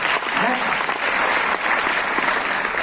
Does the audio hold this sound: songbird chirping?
no